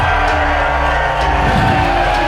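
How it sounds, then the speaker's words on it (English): Wrestling crowd at the 1720 Warehouse roars right after a match-winning finisher, a loud, dense, sustained wall of cheering and whooping with music underneath. "And the crowd here at the 1720 Warehouse erupts"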